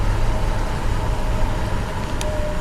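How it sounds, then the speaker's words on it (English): Truck engine rumbling close behind a cyclist on a city street, a steady low drone and road noise that holds throughout without speech. "I'll let this truck behind me"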